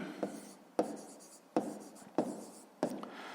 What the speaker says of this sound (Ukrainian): Записуємо тоді, отже.